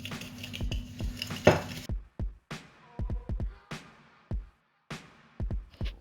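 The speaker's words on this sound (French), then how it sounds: "On mélange." Cake batter with sugar and vanilla sugar is mixed in a bowl, producing irregular scraping and tapping strokes of utensil on bowl, fairly close and separated by short pauses.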